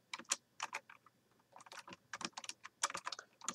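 Typing on a computer keyboard while entering script text in Notepad, with irregular bursts of close, crisp keystrokes separated by short pauses and no talking.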